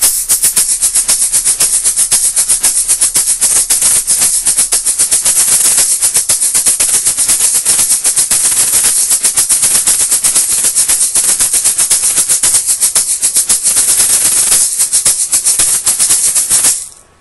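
Rapid, steady shaking of two egg shakers, a bright continuous rattling hiss with a fast even rhythm, loud and close, stopping abruptly at the end.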